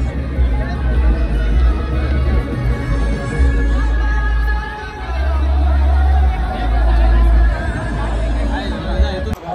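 A dense village fair crowd murmurs and chatters steadily, with many overlapping voices forming a continuous babble and deep low rumble throughout, loudness swelling and easing slightly.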